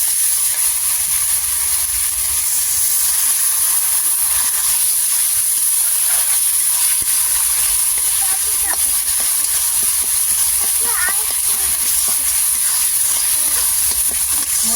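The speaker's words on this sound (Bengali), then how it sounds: "মশলাগুলো ততক্ষণ আমি কষাবো যতক্ষণ না এর মধ্যে থেকে তেল ছেড়ে দিচ্ছে" Ground spices with cumin and coriander powder fry in hot oil, a loud, steady broadband sizzle and hiss that runs unbroken throughout, with faint scraping of stirring beneath.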